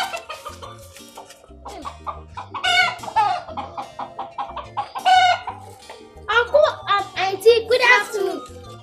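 A chicken clucks and crows in a Nollywood film scene, mixed in among lively voices talking over it throughout, with occasional low musical thumps.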